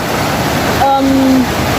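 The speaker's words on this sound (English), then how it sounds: "So as you can see, that's like waterfall." Papa Falls on the Okavango River, a small waterfall of running water, gives a steady broadband rush heard close and loud throughout, with a brief tonal sound passing over it.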